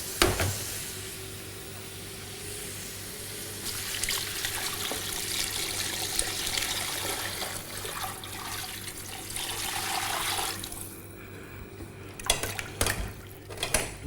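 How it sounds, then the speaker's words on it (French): Coconut water poured into a cooking pot, heard as a steady close trickle and splash with clinks of metal cookware, then a few louder knocks and scrapes near the end. "je vais ajouter l'eau de coco"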